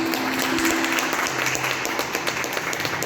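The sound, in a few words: audience applause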